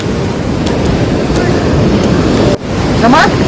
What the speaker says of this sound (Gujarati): દરિયો છે.